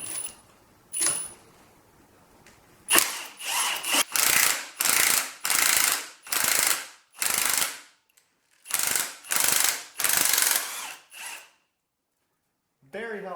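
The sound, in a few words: ratchet removing alternator bolts on a Ford 300 engine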